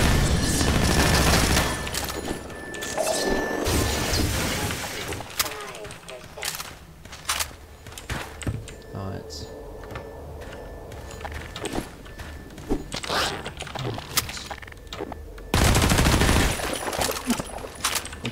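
Gunfire in Half-Life 2 played with a mod: rapid bursts and single loud shots crack and boom throughout, with heavy blasts near the start and end and a player talking between volleys.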